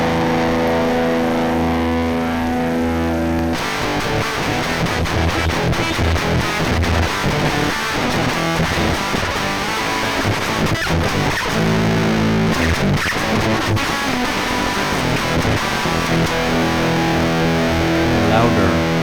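Loud, heavily distorted electric guitar through a high-gain amp with thick crunch, starting with a sustained chord then churning riffs that fill the whole stretch.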